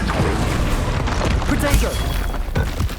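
Bombarda blasting spell explosions in Hogwarts Legacy, a series of loud booming bursts and crashes in close succession amid game effects, with a voice speaking over them.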